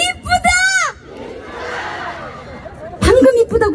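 A concert audience at an outdoor show calls out loudly to the singer in a burst of crowd shouting, with a singer's voice just before and after.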